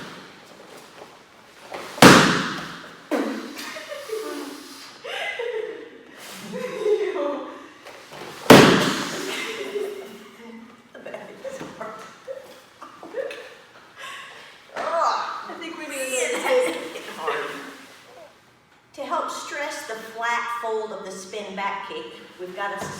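Two sharp, loud thuds ring out several seconds apart as spinning back kicks from a Chuck Norris system drill smack into a stack of kick targets, with a person talking through and between the strikes.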